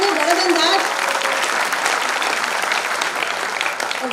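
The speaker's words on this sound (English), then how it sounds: "So can we have a huge round of applause?" An audience breaks into a big round of applause at a speech event, with dense, loud clapping that holds steady and fades only slightly across the clip, with a few voices mixed in.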